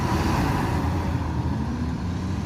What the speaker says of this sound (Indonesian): jadi bus ANS Kasose keluar dari belakang menuju pintu keluar dari sana